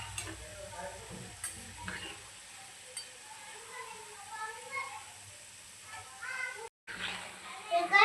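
Oil sizzles steadily as pieces of sweet shankarpali dough fry, with occasional stirring clinks and muffled voices nearby.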